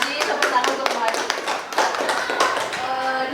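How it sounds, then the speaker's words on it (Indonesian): An audience claps for Bu Haji at a school training session on positive culture. The applause is a steady run of close, crisp handclaps lasting a few seconds, with voices mixed in. "tepuk tangan untuk Bu Haji"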